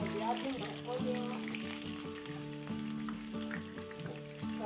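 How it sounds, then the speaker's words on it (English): Onion drops into a hot pot and sizzles steadily while cooking beans for a Nigerian beans and fried plantain dish, the soft crackle running beneath louder background music throughout. "I'll be adding my onion"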